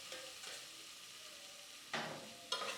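Boiled pumpkin stirred with onion and garlic in a pan, giving soft scraping strokes under a low simmering hiss, with a couple of louder scrapes near the end.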